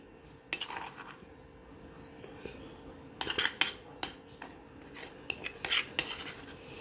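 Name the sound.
spooning half the green chutney out onto a plate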